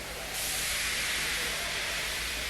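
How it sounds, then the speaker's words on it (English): A cartoon steam locomotive, Gordon, lets off a continuous broad hiss of steam, loud and steady for the whole stretch with a soft low hum beneath and no talk. "He just let off steam feebly."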